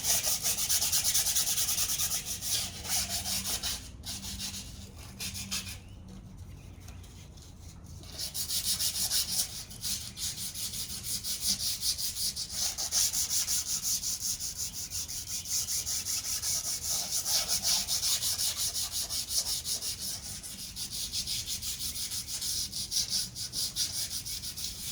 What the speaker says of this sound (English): I'm going to do this scuffing up right now.